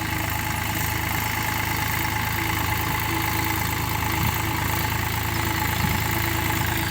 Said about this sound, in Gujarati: આપ જોઈ શકો છો આ ટ્રેક્ટરનું પલાવ છે.